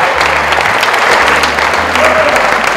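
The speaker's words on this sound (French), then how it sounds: "Alors on applaudit bien fort Nicolas" Audience clapping loudly and steadily at a congress event in Montargis, a dense continuous round of applause with a low hum underneath and faint voices.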